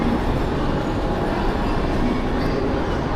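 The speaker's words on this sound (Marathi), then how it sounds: "आता आपण आपली वाशी ट्रेन पकडणार आहोत" Mumbai local train on the Vashi line, a loud, steady rumble of wheels and carriage noise filling the whole stretch without any clear speech.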